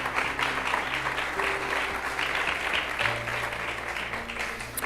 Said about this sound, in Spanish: Desen un aplauso